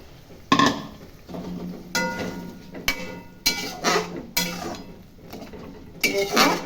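Fried lentil fritters go into a simmering pointed-gourd curry. Several distinct clanks and scrapes of a utensil against the pot come in irregular bursts, close and fairly loud, with no talking.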